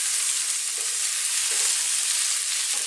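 Tofu with peppers, garlic, ginger and chilli sizzles steadily in a hot pan during a stir-fry, a close, even crackling hiss with a few soft scrapes from stirring.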